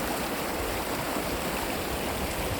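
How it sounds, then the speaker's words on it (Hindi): Clear water rushes along a mountain stream near Sinjawi dam among grassy hills, a steady, close, full-bodied broadband gush with no voices. "साफ और शफाफ बहता हुआ पानी"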